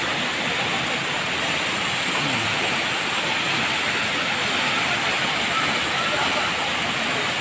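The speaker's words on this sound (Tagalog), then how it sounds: "lalo lumalakas yung agos o yung pagbagsak ng tubig" Water from a waterfall in Kidapawan, North Cotabato pours down in a steady, loud, broadband roar that holds constant throughout, with no clear breaks.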